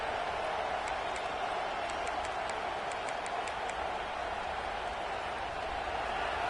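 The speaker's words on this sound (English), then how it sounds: "This crowd bringing the energy and noise early." Stadium crowd at a UGA vs LSU college football game, a steady distant roar of many voices held at an even level, with faint scattered whistles and sharp cries rising now and then above it.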